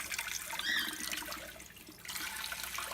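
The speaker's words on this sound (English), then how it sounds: "But now, let's wash and chop the kale." Kale is washed under a running kitchen tap, a close, steady gush of water that dips briefly before resuming.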